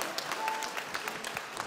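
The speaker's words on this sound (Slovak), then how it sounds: "Veľký potlesk pre ňu" A short burst of audience applause for Alenka Valentínová at a dance event, quiet and somewhat distant, with scattered claps running evenly through the moment.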